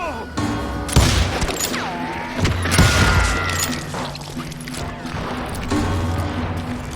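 Several gunshots and crashing impacts ring out in the Western shooter Call of Juarez: Gunslinger, mixed with game sound effects and a voice speaking over the action.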